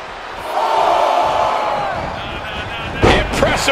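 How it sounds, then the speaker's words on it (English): In the WWE 2K24 wrestling video game, an arena crowd roars and cheers in a sustained swell, with a louder burst of noise near the end. "Kairi Sane getting the crowd riled up right now."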